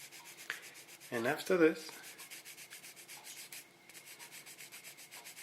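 Wet sandpaper is rubbed by hand over a surface in steady, soft back-and-forth strokes, a faint rhythmic rasping swish that keeps going under a short stretch of nearby talk.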